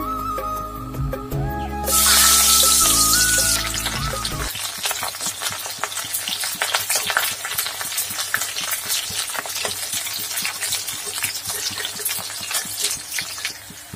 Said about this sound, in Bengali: আমি তেলটা গরম হওয়ার জন্য কিছু সময় রেখে দিলাম।